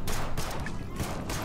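Rapid gunfire from two weapons in the zombie strategy game They Are Billions, crackling bursts of shots blending into a dense fusillade throughout the short stretch.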